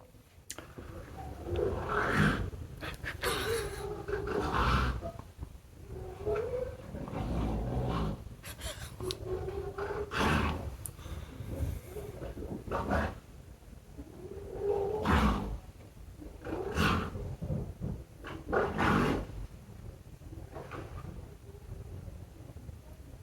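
A colony of seals at a seal rehabilitation centre near Thurso in the Scottish Highlands, calling in repeated gruff, rasping grunts like throat clearing, rising and falling in bursts over a constant background.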